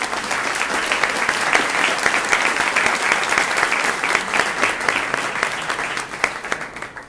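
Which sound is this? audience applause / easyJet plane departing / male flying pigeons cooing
audience applause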